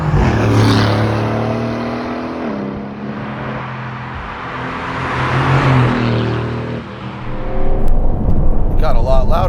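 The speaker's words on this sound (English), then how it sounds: "Got a lot louder once you started revving the engine, Zachary." An Aston Martin Vantage F1 Edition engine revs and surges loudly, rising and falling in pitch, with wet-road noise throughout and a rough burst near the end.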